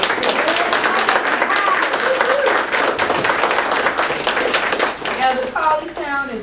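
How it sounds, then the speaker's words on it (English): An audience at a Gullah Geechee Nation reunion gives a loud, dense round of applause that carries on steadily, with a few voices breaking through near the end as it starts to fade. "I would ask y'all to give her a round of applause"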